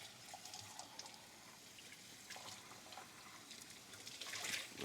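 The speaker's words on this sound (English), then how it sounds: "Just making sure the water pours over the other ones." Tap water trickles and splashes over drinking glasses being rinsed in a sink while washing dishes with a brush, a steady close stream with light clinks of glass, growing louder near the end.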